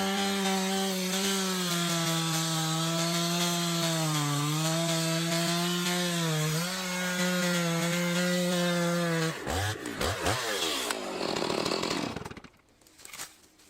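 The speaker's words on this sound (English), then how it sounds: "The Husqvarna 560 XP is a chainsaw that is often used by professional tree fellers." Husqvarna 560 XP chainsaw cutting into a large old tree, a loud close engine whine that wavers as the chain bites into the wood, then revs and falls away into quieter rumbling.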